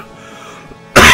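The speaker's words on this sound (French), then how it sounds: "Excusez-moi, je tousse." A single loud, abrupt cough bursts out at the end after a moment of near silence.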